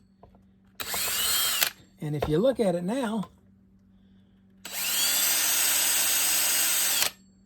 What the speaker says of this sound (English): I chucked up this spool and I stuck it in that hole and then cranked up the drill at high speed.